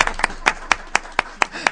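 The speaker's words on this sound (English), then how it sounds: "Everybody clap." A town council audience claps in a slow, evenly spaced rhythm, about eight sharp, close claps in under two seconds.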